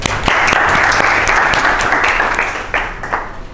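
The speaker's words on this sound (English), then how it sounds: "Clap your hands for your friend." Classmates in a classroom applaud a student, a dense burst of many hands clapping close by that thins out toward the end.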